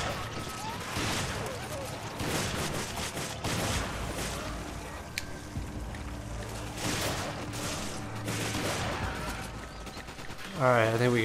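Repeated bursts of gunfire in Resident Evil 5 co-op play, moderately loud and fairly steady across the stretch, mixed with game effects, ending with a short tonal sound.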